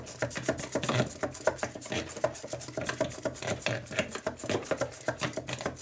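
Lemon sponge cake batter of eggs, sugar and oil being mixed in a bowl: a fast, steady run of clinking utensil strikes against the bowl, close and fairly loud, with no talk.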